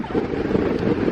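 Steady gusty wind buffets the microphone on the Tintagel footbridge, a dense continuous roar with no breaks across a short stretch.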